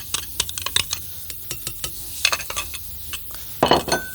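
Waffle batter made with yeast is mixed by hand in a bowl, producing a series of irregular wet slaps and soft clinks against the bowl, ending in a brief louder burst of squelching.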